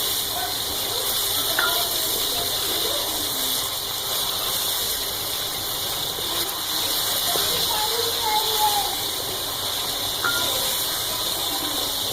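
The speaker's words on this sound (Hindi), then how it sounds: "इसको अच्छी तरह फ्राई करेंगे जब तक इसका पानी ड्राई ना हो जाए।" Steady, loud sizzling and hissing of chicken frying in a pan, continuous throughout with faint clinks in the background.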